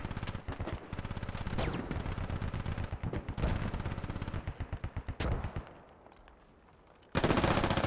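AK rifle fire in the video game Squad: rapid, loud, close bursts of automatic shots that break off into quiet before a final burst, with no talk.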